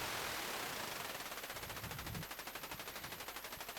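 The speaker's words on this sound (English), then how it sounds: "because the oscillator is now running so slowly, you can hear it as a pulsating input to this VCA" Noise from a synthesizer routed through a VCA and modulated by a slow oscillator, a loud hiss chopped into fast regular pulses that repeat in an even rhythm.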